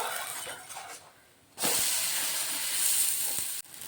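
Moong dal chilla, a crispy gram-lentil pancake brushed with oil, sizzles in a hot pan just after being flipped: a steady, bright hiss that drops briefly, then surges back loud and continuous, with no talk.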